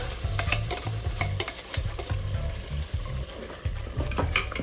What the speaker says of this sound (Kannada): ಇವಾಗ ನಾನು ಮಸಾಲೆ ಎಲ್ಲ ರುಬ್ಕೊಂಡ್ಬಂದಿದ್ದೆನಲ್ಲ ಅದನ್ನ ಸೇರಿಸ್ಕೊಳ್ತಾ ಇದ್ದೀನಿ.